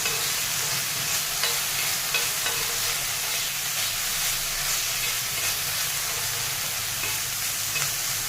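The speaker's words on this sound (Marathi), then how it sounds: "आता टोमॅटोसुद्धा छान असा भाजलेला आहे" Tomatoes frying with salt in a pan for a tomato and chili thecha, a steady loud sizzle with occasional light stirring scrapes, close up and with no talking.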